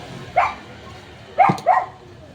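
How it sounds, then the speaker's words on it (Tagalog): A dog barks three times in short, sharp bursts, one bark alone and then two close together, with quiet pauses in between. "Maingay yung aso mga ka-viewers."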